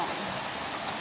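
Steady rain falls in a constant, even hiss of drops with no pauses and no voices over it.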